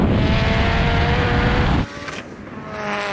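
Nissan S15 Silvia and BMW M3 Competition in a drag race, engines roaring loud and close for about two seconds before cutting off abruptly, leaving a quieter fading drone as the cars pull away.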